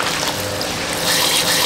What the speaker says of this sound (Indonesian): Ini gue masukin airnya sampai agak penuh dikit, menggenang gitu.